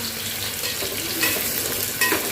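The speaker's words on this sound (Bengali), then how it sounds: "পেঁয়াজটা ভালো করে ভাজতে হবে" Onions frying in hot oil for a Bengali mutton curry, a continuous close sizzle with a few brief stirring scrapes rising above it, with no talk over the sizzle.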